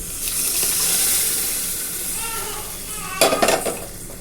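A wet, thick sizzle as mashed lentils for sambar are poured into a hot pan, steady frying hiss throughout, then a few clattering kitchen knocks near the end.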